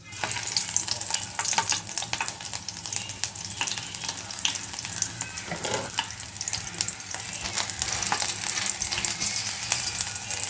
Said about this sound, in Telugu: వెల్లుల్లి రెబ్బలు వేసుకోండి.